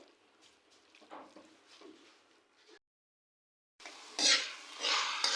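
Minced meat fries and gets stirred in a pan, giving soft scraping and light sizzling, a brief silent gap, then louder, brighter frying and stirring noise close by.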